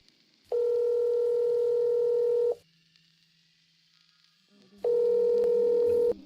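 A telephone ring tone sounds in two long electronic bursts separated by a quiet pause, fairly close and clear with no voices.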